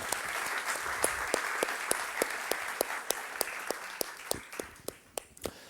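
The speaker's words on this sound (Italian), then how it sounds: "Un applauso. Tutti." Audience applause from a gathered crowd, fairly soft and slightly distant, with many hands clapping at first and thinning toward the end into a few sharp, separate claps.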